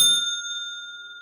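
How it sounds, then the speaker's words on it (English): A single bright ring of a small hand bell, struck once and left to shimmer and fade slowly, close and clear. "I got my little bell up here."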